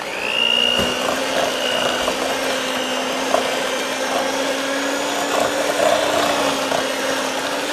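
A stand mixer whirs steadily, churning flour into oatmeal raisin cookie dough at a close, continuous drone with a faint rising whine near the start and no talking.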